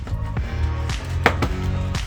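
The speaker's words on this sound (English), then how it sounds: "And just clipping that in and getting that sound is satisfying" A plastic grille clips into the bumper reinforcement of a Mercedes-Benz C200 during a rebuild, giving a few crisp, close snaps and clicks spaced irregularly over a low hum.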